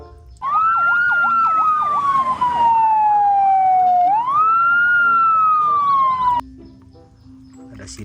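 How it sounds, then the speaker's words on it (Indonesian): A toy fire truck sounds its electronic siren, a loud, close wailing tone that sweeps down, jumps back up and sweeps down again, then cuts off abruptly after about six seconds. "Wah, ada mobil pemadam kebakaran."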